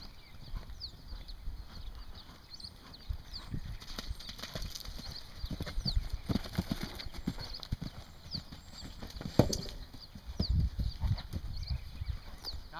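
Horse hooves clip-clopping on the ground as the horse is ridden in a clinic session, an irregular run of steps at moderate distance with an occasional whinny-like sound and faint ambient noise.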